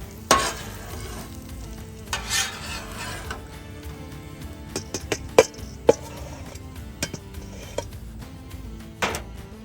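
Vegetables sauté on a Blackstone griddle with a soft steady sizzle, punctuated by sharp metallic scrapes and clanks of a spatula stirring and lifting them off the hot surface.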